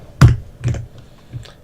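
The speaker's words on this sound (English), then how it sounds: "what keyboard? It sounds like funky" Keys on a computer keyboard, an Ella F75, clack in three separate bursts: two firm strikes close together, then a softer one, near and dry with no talking.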